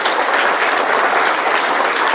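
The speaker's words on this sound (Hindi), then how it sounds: "तो इन बच्चों के लिए एक बार जोरदार ताली मारिएगा।" A school audience at a class 8 and 9 result celebration in Jharkhand claps for the students, a dense, loud, continuous burst of applause with no voices.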